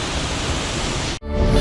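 The Cascada Al D'Angel waterfall at El Chiflón, Mexico, roars as a loud, steady rush of falling water, broken by a brief dip before the roar resumes just as strongly.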